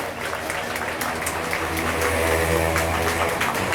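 A crowd claps steadily throughout, a dense wash of applause that swells slightly toward the end, welcoming students at a college Republic Day celebration.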